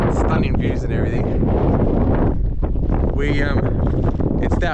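Strong wind at Streaky Bay, Australia buffets the microphone in loud, continuous gusts, with a voice talking underneath the roar throughout.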